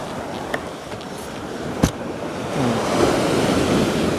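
Waves wash onto a Thai seashore at night, a constant broad hiss of surf with a couple of sharp knocks and a swell of louder water toward the end.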